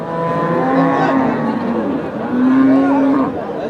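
Cows moo at the Kalampur cattle market, giving two long, loud, close bellows one after the other.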